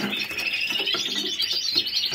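Caged birds chirp close by, a busy run of quick high tweets and calls overlapping continuously.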